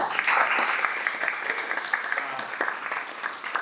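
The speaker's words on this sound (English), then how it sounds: "Please give Leanne one more round of applause for her excellence." Steady applause from an audience at a business communications speaker talk fills the space, a dense continuous patter of many hands clapping with a few scattered voices underneath, fading slightly toward the end.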